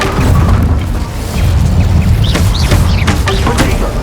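Incendio fire spell in Hogwarts Legacy bursts with a loud booming blast and crackling magical flare, followed by short bright sparkling effects over a dense game soundscape.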